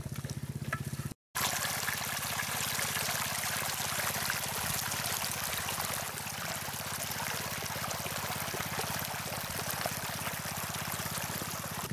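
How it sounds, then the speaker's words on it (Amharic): Irrigation water runs into a furrow channel on a farm, a steady continuous rushing flow close by that drops out for a moment near the start and then carries on evenly to the end. "በዚህ መስመር እናገባዋለን ውሃ ይሁን ወደዚህ ይገባ"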